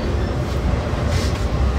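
Steady low rumble and rattle of a freight train rolling out of Galesburg at midnight, heard from on board the moving train; continuous, close and fairly loud throughout with no voices.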